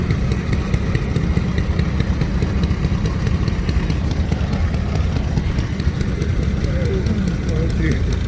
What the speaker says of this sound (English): Have a 1947 Minneapolis Moline RTU pulling a 1954 LS300 manure spreader.